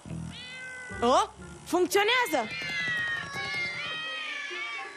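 Cartoon cats meow repeatedly in high, rising cries that are loud and close, layered over animated dialogue and background music.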